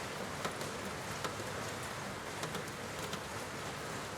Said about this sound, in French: vous protéger de cette pluie qui tombe à l'extérieur